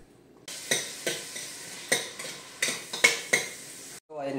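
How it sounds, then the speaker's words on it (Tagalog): Bean sprouts (togue) are sautéed in a pan, with a steady sizzle under about eight rhythmic scraping strokes of a spatula against the metal. The cooking sounds close and clear, with no talking, before a brief cutoff at the end. "magluluto na tayo ng togi. Igisa na natin."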